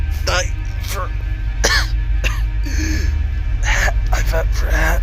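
A young woman coughs weakly several times in short bursts with gasping breaths, close and distinct over a low steady hum.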